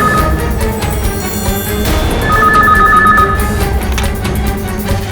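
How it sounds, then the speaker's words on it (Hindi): A telephone rings in repeated electronic bursts over a dense, noisy background, fairly loud and close. "इस वक्त कौन फोन कर रहा है?"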